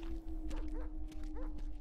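A dog in a horror video game gives several short, sharp barks and yelps at a moderate distance, set against a steady eerie hum and low rumbling ambience.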